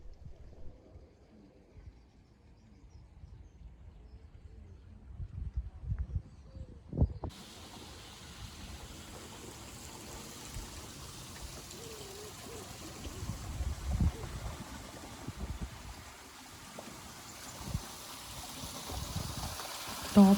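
Water trickles and gurgles steadily through the bottom gate of an English canal lock, a soft continuous flow with outdoor ambience that grows a little fuller partway through.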